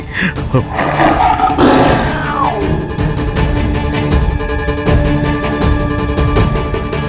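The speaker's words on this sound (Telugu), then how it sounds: "ఈ పులి పిల్లిలాగా ఎందుకు అరుస్తోంది" A tiger lets out a loud, drawn-out roar that falls in pitch, followed by lower rumbling growls.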